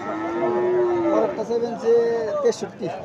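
A Friesian cross calf at a village cattle market gives a long, loud, nearby moo that rises and falls, with market chatter in the background.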